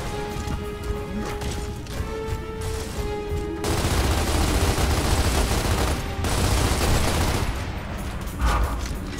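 Dense bursts of rapid gunfire fill a Gears of War: Ultimate Edition firefight. The shooting grows louder and heavier partway through, then rattles on continuously like a fusillade.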